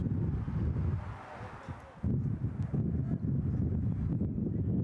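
Steady broadband wind rumble buffets the microphone throughout at an outdoor college baseball game, with a brief lull near the middle before the gusting noise returns strongly.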